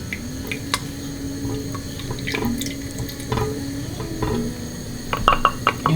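Milk and cream are poured into a pan and stirred, giving a liquid pour and wet swirling with light clinks of utensil against metal, close up and without talk.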